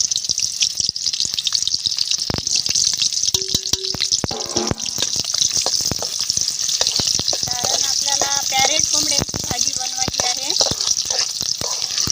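Onions frying in a pan for a spicy chicken rassa cooked on a wood-fired chulha, a continuous close sizzle with sharp crackles and scraping, plus some brief clinks and tonal bits over the frying.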